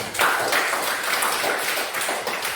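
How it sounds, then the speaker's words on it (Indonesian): A classroom of students applauding a classmate's answer, with dense, steady clapping from many hands, fairly close and lasting a couple of seconds. "kita beri aplaus dulu untuk nomor 1 dari teman kalian"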